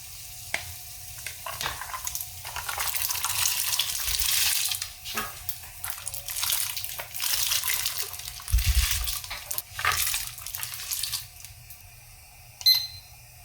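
Splashing and clattering water as room-temperature potatoes drop into a pot of boiling water for canning, with bubbling and sloshing that comes in bursts and a sharper clink near the end.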